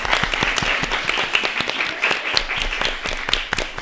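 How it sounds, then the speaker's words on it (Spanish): Applause from an audience at a feminist digital gathering, steady dense clapping lasting throughout, moderately loud with a few sharper individual claps standing out. "¡Aplauso!"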